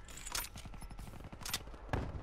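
Rapid bursts of gunfire from the Gorgon weapon in a video game, loud and close, with a fast repeating rhythm and sharp louder shots near the start and end.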